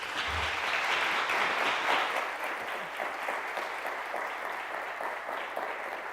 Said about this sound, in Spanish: les pido para ella un aplauso de bienvenida